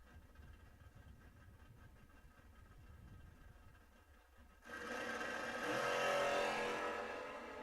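A drag racing car launches hard from the lights at a memorial race, its engine jumping from a quiet idle to a loud, sustained roar that swells and holds before easing slightly.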